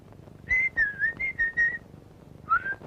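A person whistles a short tune, a string of clear, bright notes followed by a pause and one more brief phrase, faint and alone.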